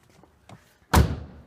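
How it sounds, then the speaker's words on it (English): A door on a custom-built wall or cabinet swings shut with a single solid thud, preceded by a few faint light knocks and followed by a short ringing decay. "Door shut fine."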